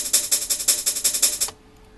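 A drum and bass beat with a ride cymbal humanized by varying velocity rings out in a fast, even pattern of bright hits whose loudness rises and falls, lasting about a second and a half before stopping abruptly.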